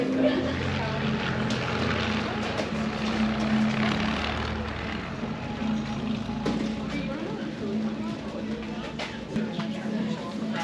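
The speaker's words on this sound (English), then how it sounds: "Where else can you ride your bike next to airplanes landing?" Aircraft engine noise from airplanes landing beside a gravel bike route drones steadily throughout, a loud low rumble with a faint whine, and voices murmur beneath it.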